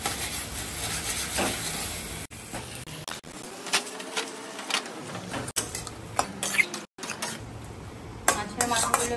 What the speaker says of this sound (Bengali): মাছের মাথাগুলো আমি ভালো করে ভেঙে দেবো।